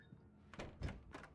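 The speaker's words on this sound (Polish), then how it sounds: "Drzwi otwierają się w tej stronie." A door opens in the video game Alan Wake, giving a few quiet, soft thunks and a brief shuffle in quick succession, faint and close, with no voice over it.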